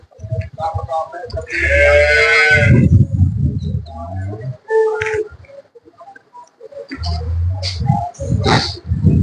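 Loud, close mooing and bellowing calls from freshly calved cows and buffaloes, several long lowing moos with pauses between, amid farmyard noise.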